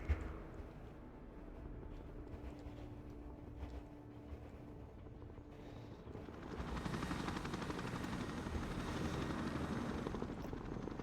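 A helicopter ferries troops in the Broken Arrow war strategy game, its rotor chop and engine whine low at first, then swelling into a louder, denser rumble as it comes closer, with no voices.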